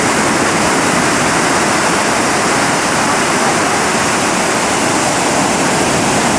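Ocean surf at Field 5 of Jones Beach roars as a loud, unbroken wash of breaking waves that fills the scene without any pause.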